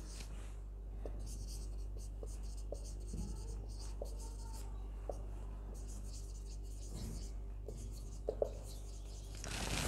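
A lecturer writing on a board during a physics lecture, with faint, intermittent scratchy strokes in a quiet room.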